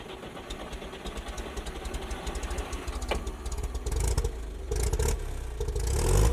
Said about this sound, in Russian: Газик запускается с кнопки на полу.